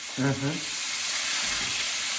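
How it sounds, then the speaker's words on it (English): Steady, bright sizzling of ginger, garlic and chillies frying in a hot pan, close and continuous, with a brief voice near the start. "Oh, listen to that sizzle."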